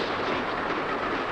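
A steam-era postal mail train runs on rails through industrial England, a dense continuous rumble and rattle of wheels filling the short stretch, loud and close with no voices.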